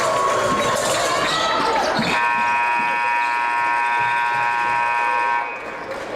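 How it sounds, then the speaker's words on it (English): Crowd noise and chatter at a high school boys' basketball game, then a loud, sustained electronic buzzer sounds for several seconds at the end of the third quarter before cutting off. "with the buzzer buzzer sounding at the end of the third quarter here"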